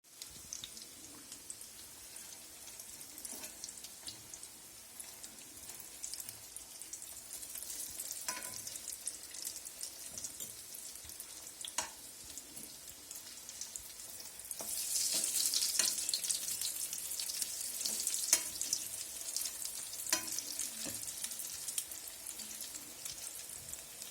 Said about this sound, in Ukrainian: Смажуємо наші котлетки спочатку з однієї сторони, потім перевертаємо на іншу сторону до готовності